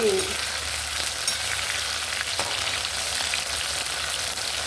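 Stuffed ivy gourd curry is stirred in a pan with asafoetida, its steady sizzle close and continuous, with the scrape of the spoon running under it and no voices.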